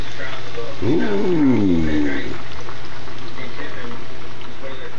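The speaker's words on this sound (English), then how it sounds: "Starting to fry." Country style pork ribs fry in a Stanley cook set pot at a wilderness camp, a steady sizzle rising as the meat goes in, with a short voiced exclamation over it.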